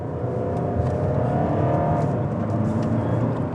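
A Volkswagen Golf 2.0 TDI diesel hatchback in sport mode revs and accelerates steadily from close by, a continuous rising drone with road noise and no talking.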